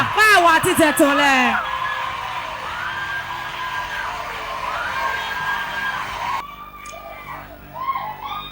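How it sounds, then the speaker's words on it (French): A group of people let out shouts and whoops of joy at a church testimony gathering, loud, near and overlapping, the first burst of cries giving way to a sustained crowd roar, with a fresh swell of voices toward the end. "Pousse des cris de joie."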